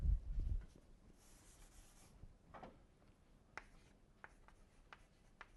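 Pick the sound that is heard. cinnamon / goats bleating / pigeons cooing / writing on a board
writing on a board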